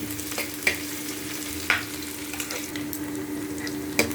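Onions frying in a pan until soft for a Dogri-style dish, a steady close sizzle with a few sharp clinks of stirring, no talk.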